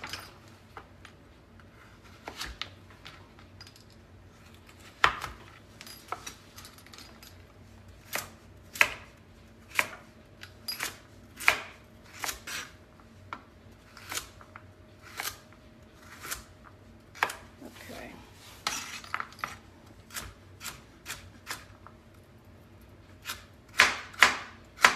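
A knife slicing quartered carrots on a cutting board for a summer soup: crisp, distinct chops that come close and fairly quiet, in uneven bursts and pauses, with no talking.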